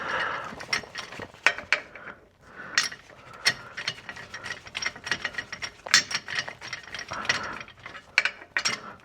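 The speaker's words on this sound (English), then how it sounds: "I'm just gonna take that deep socket and just get this thing all the way up." Ratchet wrench with a deep socket clicking rapidly in bursts while tightening rear differential carrier hardware on a 2015–2021 Subaru WRX STI, close and crisp with short pauses between runs.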